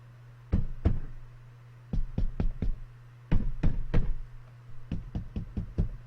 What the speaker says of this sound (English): I hear knocking or footsteps.